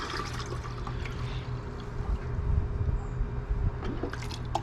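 A pump sprayer is dunked into a bucket of rinseless car wash solution, giving a close, continuous gurgling slosh of water that swells briefly partway through, with no talking.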